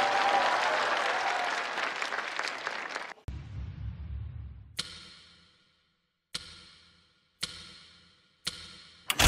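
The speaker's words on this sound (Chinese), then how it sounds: "掌声送给两位老师" Applause for two singers at a televised live music show swells loud and full, then cuts off sharply. It is followed by a low rumble and several separate bright percussive hits that each decay into quiet.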